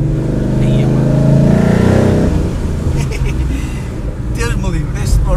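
A Ford Mustang Boss 302 with a 5.0 V8 revs loudly and close by, the engine roar swelling then settling into a rumbling idle while people talk over it.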